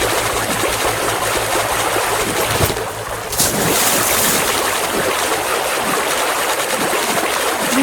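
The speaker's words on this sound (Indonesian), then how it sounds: "di tepi sungai Tibre" Flowing water on the gravel bank of the Tiber river in a Roman-era audio game: a steady, dense rush of water that fills the whole stretch, with a brief dip and swell near the middle.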